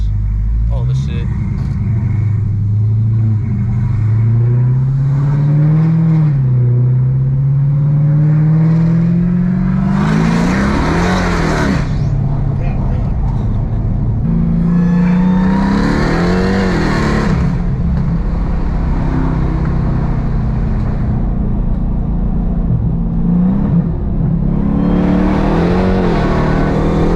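An 850 wheel horsepower E85 drift car engine revs hard in repeated bursts, loud and close, with a sustained rising whine between sharp high-energy surges, continuous and prominent throughout.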